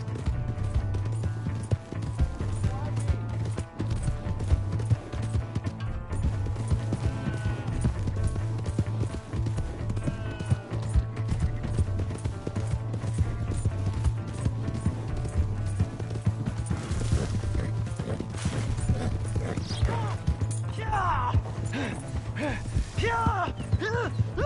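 Horse hooves clip-clop at a steady galloping rhythm in Red Dead Redemption 2, close and continuous over a low droning engine-like hum and background game sounds, with occasional voices.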